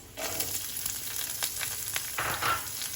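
A large, roughly chopped onion fries in a pan with a steady, close sizzle. Scraping stir noises break in now and then, and no voices are heard.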